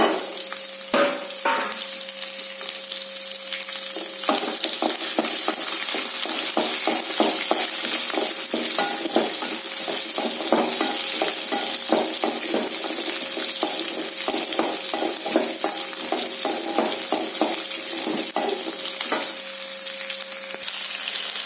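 Onion and curry leaves fry in a pan for a Tamil okra tamarind kuzhambu, with a steady, close sizzle under frequent stirring scrapes and clicks.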